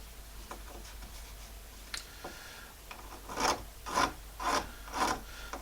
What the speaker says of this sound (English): So we'll get them darn close with a file, and then get them perfect with sandpaper.